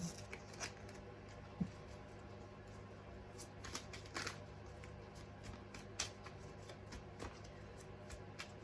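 Tarot cards being shuffled by hand give soft riffling and papery slaps in short, irregular bursts, fairly quiet and close, with no talk over them.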